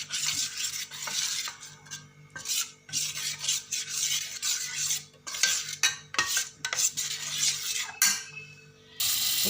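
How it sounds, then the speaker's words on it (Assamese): Roti custard mixture being stirred in a pan, a spoon rasping and scraping against the metal in repeated uneven strokes with brief pauses, close and fairly loud, with no talking. "এতিয়া মই ভালকৈ এইখিনি লৰাই লৈছোঁ।"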